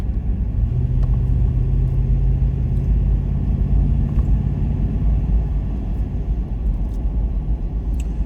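A vehicle engine cruises in 7th of 10 gears on scenic Highway 28 near Fontana Lake, North Carolina, giving a steady, loud, low rumble with a faint droning tone early on and no pauses.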